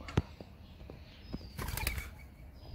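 A startled pigeon bursts into flight in the open, a sharp near wing clap followed by a longer flurry of flapping wings, with other birds faint in the background.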